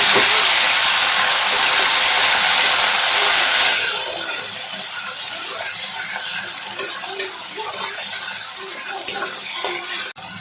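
Chopped tomatoes dropped into a hot pan of fried ginger, garlic and green chilli for an egg curry sizzle loudly at first, then settle into a steady, softer frying crackle with occasional stirring.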